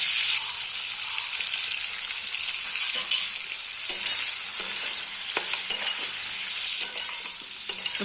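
Potato pieces fry in a pan with salt and turmeric, a continuous hissing sizzle with occasional sharp spatula taps and scrapes against the metal throughout.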